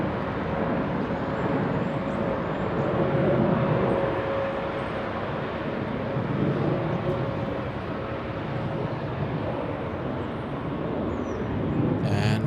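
A Viva Aerobus Airbus A320 bound for Guadalajara moves at LAX. Its steady jet engine hum mixes with a faint tonal whine and background traffic rumble, moderately loud and continuous, with no one speaking.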